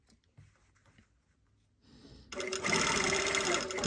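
A sewing machine starts up and runs steadily, stitching a collar on thick coating fabric; quiet handling noises come first, then a loud, even motor hum with rapid needle strokes.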